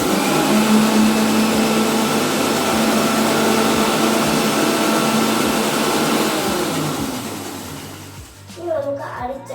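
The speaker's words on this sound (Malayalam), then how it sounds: "ഒന്ന് അടിച്ചെടുക്കാം. അടിച്ചെടുത്തിട്ട് നമുക്ക് വെള്ളം ഒഴിക്കാം." An electric blender whirs steadily and loudly as it blends grapes for juice, then winds down near the end, followed by brief rattling.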